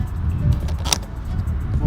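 A Volkswagen GTI MK6 gas cap, old and suspected of a fault, is screwed onto the filler neck, giving a few close plastic clicks and a firm ratcheting snap against light wind noise.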